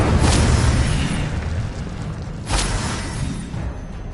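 A fire spell cast in a Harry Potter video game bursts out as a loud whooshing boom, with a second fiery burst about two seconds later over a steady low rumble.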